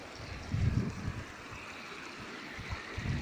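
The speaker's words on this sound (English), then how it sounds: "I am very near of the Dhabdaba, the waterfall." Water at Sahastra Kund waterfall rushes in a steady, broad roar from some distance, mixed with low gusty rumbles from wind, and no voices are heard.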